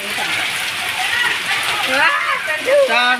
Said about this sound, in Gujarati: વરસાદ આવ્યો ને ભાગ્યા